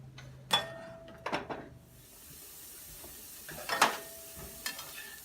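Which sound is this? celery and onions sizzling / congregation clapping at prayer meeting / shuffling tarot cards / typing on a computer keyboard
celery and onions sizzling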